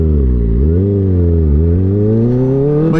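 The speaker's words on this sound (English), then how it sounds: "When I give it gas, the exhaust is less loud." A motorcycle engine revs through its exhaust, a loud, close, rising and falling drone that climbs twice in pitch over a few seconds, with no voices.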